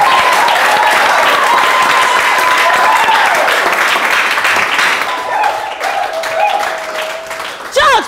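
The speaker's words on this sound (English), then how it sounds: "Please, a round of applause for Sister Ella." A church congregation breaks into loud, dense applause for Sister Ella, with cheering voices mixed in; the clapping stays strong throughout and slowly thins toward the end.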